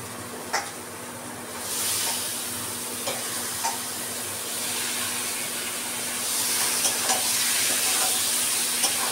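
Chicken meat drops into a pan of fried spices and sizzles loudly. Scattered stirring clicks sound over a steady frying hiss that swells partway through.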